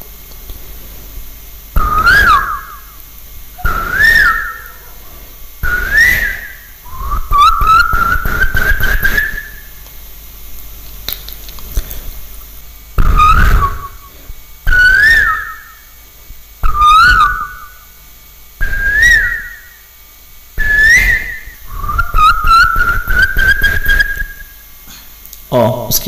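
A voice imitating the Asian koel bird call, about a dozen loud rising whistled calls in a steady, spaced rhythm, some stretched into longer ascending notes, close and clear.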